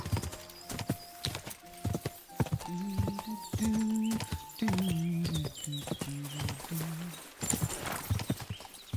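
Rapid clip-clop of a galloping horse's hooves in the video game Kingdom Come: Deliverance II drives on with a steady rhythm, joined by whinnying and a synthetic, game-like tone.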